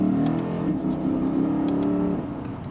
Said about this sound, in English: And just a mild acceleration, it sounds good.